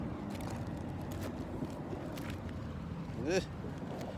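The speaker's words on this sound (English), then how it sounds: "It's so windy today." Low, continuous wind rumble buffets the microphone, with a brief voice-like rising sound near the end.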